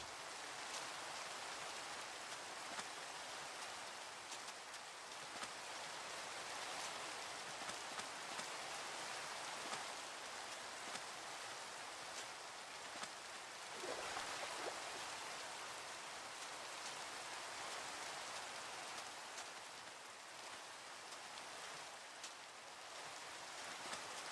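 Rain in the Minecraft video game: a steady, dense hiss of falling rain continues unbroken for the whole stretch, even and fairly quiet, with no voices.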